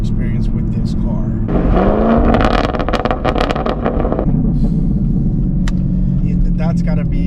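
A 6th-generation Chevrolet Camaro SS V8 revs hard, its engine note climbing into a loud, sustained roar for a few seconds before settling back to a deep idle, with faint voices around it.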